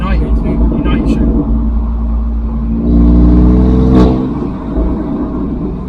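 BMW M4 CS engine revving through downshifts, a loud deep rumble that swells into a rising rev burst midway, with someone talking over it.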